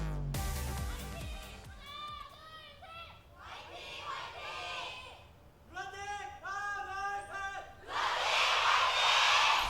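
Spectators at an Overwatch esports match cheer and chant for Lunatic-Hai, rhythmic shouted bursts led by one man and followed by the crowd, rising into a loud roar near the end.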